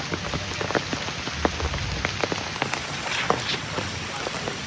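Rain patters steadily during a mountain hike on Mount Merbabu, a dense wash of drops with sharper taps on nearby surfaces, under faint background voices.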